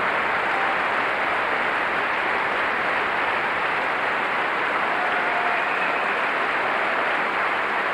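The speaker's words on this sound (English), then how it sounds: "Ian Tracey also applauding the chorus." Concert audience and organist applauding the chorus after Janáček's Glagolitic Mass, sustained broad clapping filling the hall without a break.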